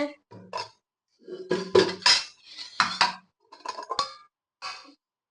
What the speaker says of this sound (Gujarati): ગેસ ઉપર તવો મૂકી દીધો છે.